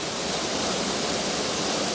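A steady, roaring rush of falling water, loud and continuous without a break, with no voices over it.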